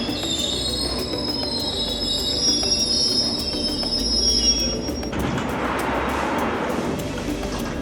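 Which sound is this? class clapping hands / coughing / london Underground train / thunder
london Underground train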